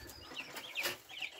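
Soft clucks and peeping calls from a brood of chickens, one large chick among a few pheasants, come in short uneven bursts at close range with no talk over them.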